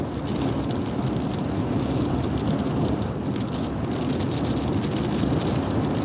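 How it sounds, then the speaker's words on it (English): Strong Hurricane Beryl wind roars steadily in East Texas, a dense broadband rush with slight surges, loud and continuous with no voices. "I don't know if y'all can hear it though, but ooh, it's gusting."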